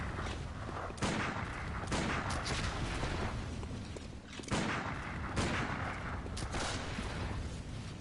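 Dense, ongoing gunfire and blasts in Bloodborne, repeated sharp shots and booms packed closely together over a constant noisy background, with no pauses.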